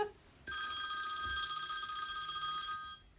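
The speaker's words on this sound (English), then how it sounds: "I forgot to put my phone on silent." A mobile phone starts ringing abruptly in a quiet room, a steady electronic tone that continues for several seconds, fairly close and clear, with no talk over it.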